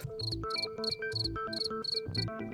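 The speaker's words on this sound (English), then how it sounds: "Where did those crickets come from?" Crickets chirp in the video game Danganronpa: Another, in a regular rhythm of about eight bright, pulsing bursts with short gaps between them, clear and up front with no talking.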